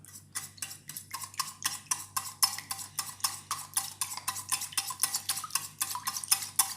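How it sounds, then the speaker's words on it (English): Caramel pudding batter of custard powder and other ingredients being whisked briskly in a bowl, a fast even rhythm of close clinking strokes that continues without a break and without any talk. "Now you have to whisk it thoroughly till all the ingredients mix and it becomes a smooth batter."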